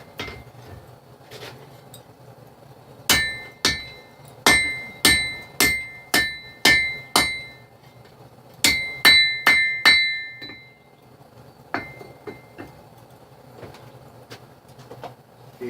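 Steady hammer blows ring out on hot steel while a knife blade is forged, a run of evenly spaced sharp metallic strikes in two bursts, then a few scattered taps, close and loud with no talking.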